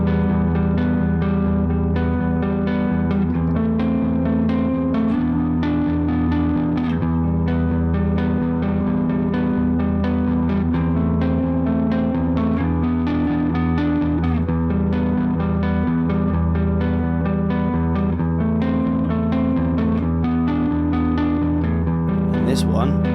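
Distorted electric guitar plays a continuous riff, several parts run together without a break for over twenty seconds, thick and sustained with echo throughout, no talking over it.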